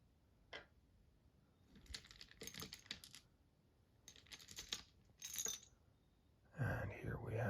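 A D12 die rolled and tumbling on a hard surface, faint close clatters in several short bursts, ending with a louder rattle.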